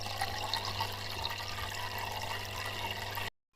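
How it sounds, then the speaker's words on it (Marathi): Water flows and babbles in a steady, fairly soft rush, a continuous broadband wash with a low hum beneath, ending in an abrupt cut to silence. "पाण्यांचा खळखळाट तुम्ही नक्कीच ऐकला असेल"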